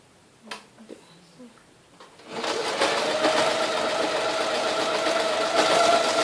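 A sewing machine sews a straight line with a crossing stitch, starting after a few faint knocks and running steadily and loudly at a moderate pace to the end.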